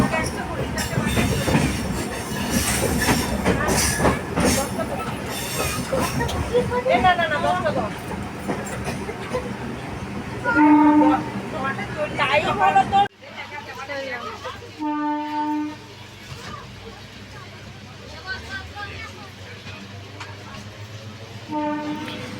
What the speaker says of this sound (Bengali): তো এখন আমরা ট্রেনে যাচ্ছি